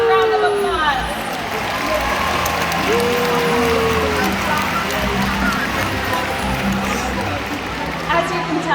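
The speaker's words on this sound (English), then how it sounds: "Let's give ourselves a round of applause." A large crowd at the SeaWorld San Antonio orca show claps and cheers in a steady, dense wash of applause, with voices and whistle-like tones rising over it.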